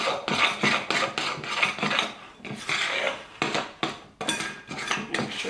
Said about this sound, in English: I'm just going to mix that in. Really well.